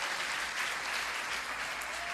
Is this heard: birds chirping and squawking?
no